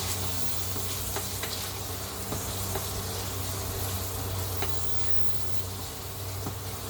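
Chopped onions sizzle steadily in hot oil in a pan for mung bean soup, a dense continuous crackle with faint occasional scrapes of stirring, no voices over it.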